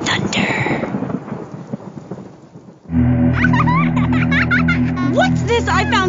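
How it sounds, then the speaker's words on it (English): Thunder rumbles and rain pours in a video game radio ad for the Maibatsu Thunder car, a long rolling crash under the storm, then a sudden switch to a steady musical bed with bright synth tones. "Because after you get struck by lightning, there's thunder."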